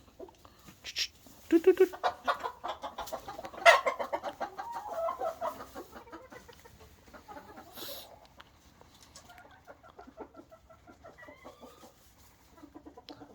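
Tropical chickens cluck and squawk in a winter setting in the Midwest, with several busy bursts up close early on that fade to softer, scattered clucks. A person speaks briefly among the birds.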